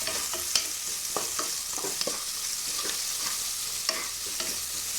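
Onions frying in a pressure cooker while being stirred, a continuous sizzle broken by repeated scraping clicks of the spoon, fairly close and steady with no talk.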